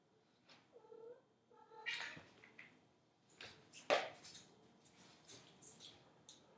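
A cat playing with a little pink ball at home lets out a few short meows and yowls, mixed with soft scuffling and taps. The sounds are close and quiet, with no talking.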